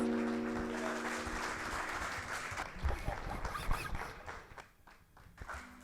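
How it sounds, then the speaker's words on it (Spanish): Applause at a La Rioja provincial bicentennial event, a sustained wash of clapping that thins out toward the end, with a voice briefly heard at the start. "Fuerte, fuerte ese aplauso"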